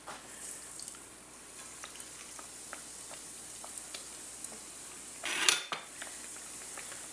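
A doughnut lowered on a spider into hot oil sizzles with a soft, steady crackle and light pops, then a brief louder clatter and burst of bubbling partway through.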